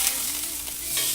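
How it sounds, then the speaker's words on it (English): A steak sizzles in a hot pan, a steady, bright crackling hiss with small pops, close and even throughout, no voices. "Hear that immediate sizzle going on the outside"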